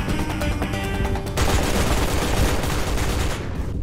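Shotgun blasts in a Roblox video game, a dense, loud stream of rapid overlapping shots that grows heavier partway through before cutting off near the end.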